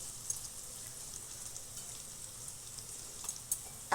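A paste of ginger, garlic, tomato, onion and cashew fries gently in a pan over a low gas flame, a faint, soft continuous sizzle with a few light stirring clicks toward the end.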